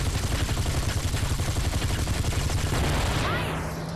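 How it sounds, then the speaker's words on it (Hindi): Rapid, continuous automatic gunfire during a car chase in the game Gangster Vegas, loud and close with an engine drone underneath, fading slightly at the end. "रोशन को फायरिंग करना पड़ेगा"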